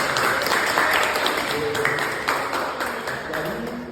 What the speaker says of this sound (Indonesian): Ayo kita beri aplaus untuk teman-teman kita tadi